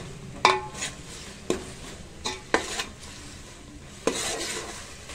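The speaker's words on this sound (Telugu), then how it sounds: "ఈ పేస్ట్ ఎంత మంచిగా వేగితే అంత మంచి స్మెల్ వస్తుంటుంది." Masala paste frying in oil for fish curry, with a spoon scraping and knocking against the pan in about six sharp strokes over a low, steady sizzle, close and fairly loud, with no talk.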